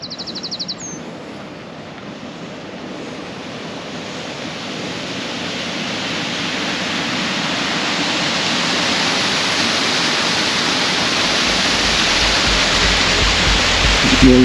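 Water plunges into Hull Pot, a large limestone pothole in the Yorkshire Dales, making a broad steady roar that grows gradually louder over about fourteen seconds, with a brief bird chirp near the start.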